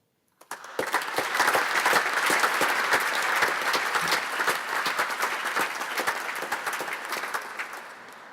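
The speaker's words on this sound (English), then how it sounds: "You all deserve our thanks and a round of applause." Guests applauding at a livery company master installation dinner, a sudden onset of loud, sustained clapping from a banquet hall crowd that holds steady and slowly thins toward the end.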